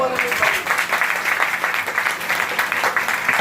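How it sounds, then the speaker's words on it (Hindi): A crowd at a devotional bhajan gathering for Khatu Shyam claps loudly and steadily, dense rhythmic hand claps filling the space with some voices mixed in. "जोरदार ताली बजाए।"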